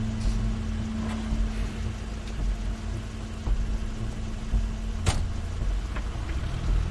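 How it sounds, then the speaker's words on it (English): Crane's car in the adventure game The Wolf Among Us, a steady low engine rumble with a constant hum, holding level throughout with a sharp brief click near the end. "That's Crane's car."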